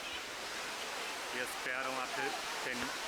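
Rushing water of the Eisbach river's standing surf wave in Munich's Englischer Garten, a steady broadband roar filling the whole clip, with a voice speaking over it partway through.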